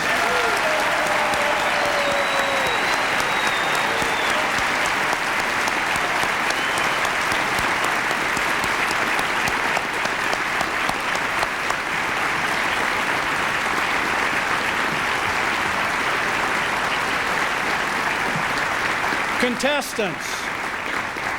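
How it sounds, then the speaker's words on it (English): An audience in a large hall gives contestants at a Toastmasters speech championship a warm round of applause. The clapping is dense and steady and lasts the whole time, and a brief voice rises near the end. "giving them a warm, welcoming Toastmasters round of applause"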